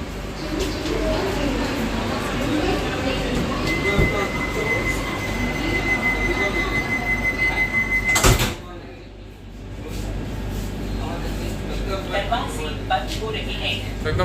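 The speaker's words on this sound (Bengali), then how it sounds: "এই দরজাটা এরভাবে বন্ধ হবে" Door of a Vande Bharat Express on the Mumbai–Goa run closes with one loud broadband thud partway through. The steady carriage din drops noticeably afterward, with people talking in the background.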